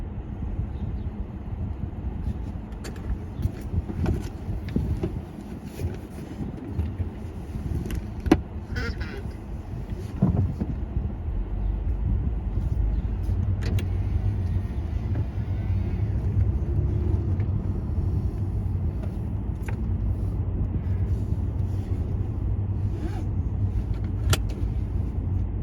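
A car drives near Tweed Airport in New Haven, giving a steady low road rumble and engine drone throughout, with occasional small rattles and clicks inside the cabin.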